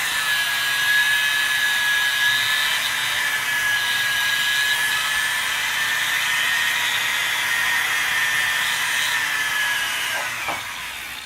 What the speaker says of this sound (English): Again, we'll soften the edges. Take my Dremel to it again.